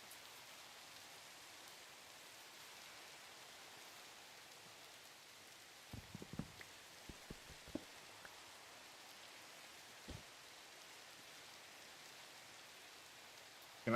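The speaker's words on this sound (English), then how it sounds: "we just have to deal with the fucking rain" Steady rain hiss from a Minecraft game world, an even wash of falling drops that continues throughout, with a few short soft knocks of game activity partway through and no talking.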